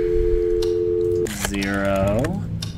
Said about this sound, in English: Alright, dial another number.